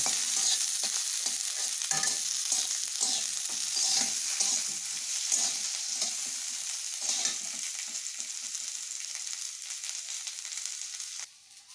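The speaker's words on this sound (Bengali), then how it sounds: "রসুন, আদা এগুলো একটু ভেজে নেব।" Garlic and ginger fry in hot oil for a Baghair fish curry, with a close, bright sizzle and a spoon stirring and scraping the pan. The sizzle gradually quiets and cuts off near the end.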